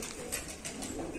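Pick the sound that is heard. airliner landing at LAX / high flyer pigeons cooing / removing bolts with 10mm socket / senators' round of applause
high flyer pigeons cooing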